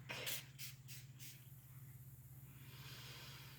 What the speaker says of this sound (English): I am going to use my fire element spray